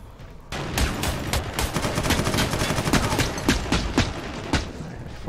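Sustained automatic gunfire in the video game Warhammer 40,000: Eternal Crusade, dense rapid shots that start suddenly and keep up loudly for several seconds without pause.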